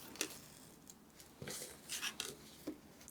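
Quiet, close cuts through paper made with a blade guided along a triangular ruler, heard as a few short, soft rasping strokes with gentle rubbing in between.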